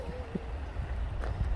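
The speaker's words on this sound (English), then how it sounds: "A little waterfall." A small waterfall in a rhododendron garden gives a steady, soft splash and gurgle of running water with a few brief louder drips.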